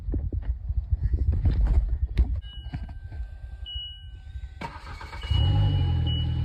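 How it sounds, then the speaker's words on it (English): A Polaris Slingshot engine cranks on a fresh new battery, a strong rapid starter churn with clattering pulses, then a chime and a sudden louder engine-like roar near the end, close up with no talking. "Strong crank."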